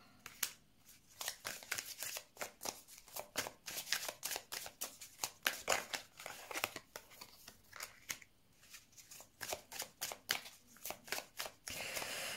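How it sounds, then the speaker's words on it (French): Tarot cards are shuffled close up in a quiet room, a long run of quick, crisp riffling bursts with short pauses between them. The sound is soft and steady, with no talking over it. "Je vais mettre des cartes."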